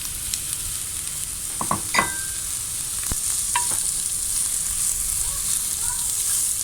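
Onion, curry leaves and garlic frying in four tablespoons of hot oil in a pot for anchovy curry, a steady close sizzle with a few sharp utensil clinks and stirring knocks, no talk.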